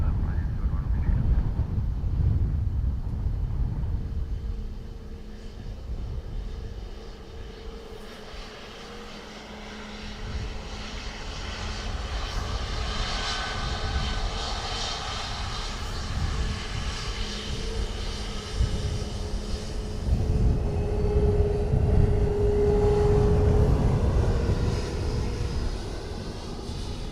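A Lufthansa Airbus A321 takes off at Dublin Airport, its jet engines roaring and rumbling loudly and continuously from a distance, with the roar swelling again toward the end.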